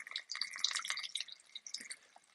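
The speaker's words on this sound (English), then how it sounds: "I'm going to pour some of this in" Hydrogen water poured through a funnel into a portable pouch, giving a quiet, steady trickle with small drips and splashes close by and no talk.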